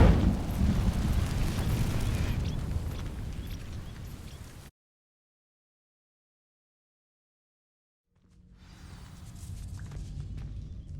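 In the video game Hogwarts Legacy, an Incendio fire spell sets dry vines ablaze, giving a loud roaring whoosh that fades into a cut of total silence before a lower rumbling burn returns.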